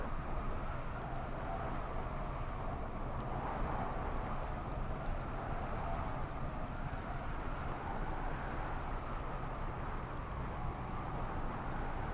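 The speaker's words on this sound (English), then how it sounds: "I'm looking at the storms. Okay, that's a sandstorm." Storm weather in a PS4 video game, a sandstorm rendered as a constant dense hiss of wind and rain-like noise, steady and unbroken with no talking.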